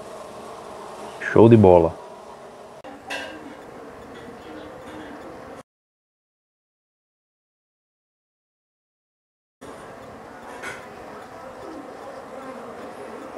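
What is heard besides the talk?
swarm of Urussu amarela stingless bees buzzing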